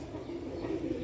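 A pigeon cooing softly and steadily, a low throaty murmur that stays close and even throughout.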